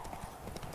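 Rapid clip-clop hoofbeats of the horse Roach galloping in The Witcher 3, a quick close run of hooves on the ground heard for under a second.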